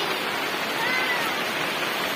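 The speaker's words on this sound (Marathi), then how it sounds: "शांत पाऊस असा चालू आहे, वारं नाही काही नाहीये" Steady rain falls on a calm morning with no wind, a dense, even hiss that holds unchanged from start to finish with no distinct drops standing out.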